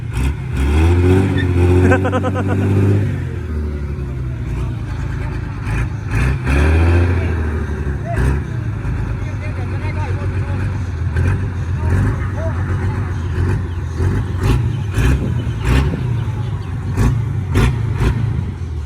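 A loud truck engine revs and roars, rising and falling over sustained idling, with people talking over it and sharp exhaust pops scattered throughout, as trucks dump fill at a land-filling site.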